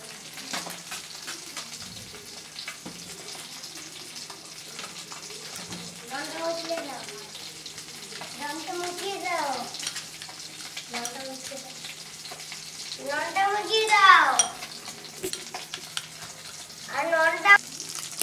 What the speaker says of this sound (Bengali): বন্ধুরা মাছগুলো আমার ভাজা হয়ে গেছে লাল লাল করে আমি তুলে নিচ্ছি